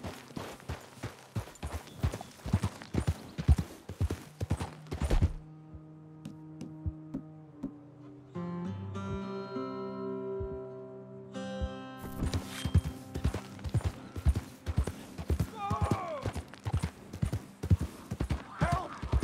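Horse hooves clip-clop in a steady walking rhythm in the Red Dead Redemption 2 game, pausing midway while sustained musical tones fill the gap, then the hoofbeats resume at the same even pace.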